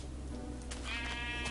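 A sheep in the video game Minecraft, played with the Tekkit modpack, gives a single clear bleat over a steady background hum, close and moderately loud.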